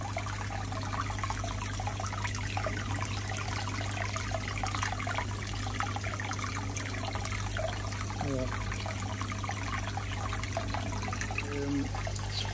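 Steady water trickle and bubbling from an aerated fish tank holding a sick, salt-treated fish, a continuous low hum underneath and a few faint clicks near the end, with no talking.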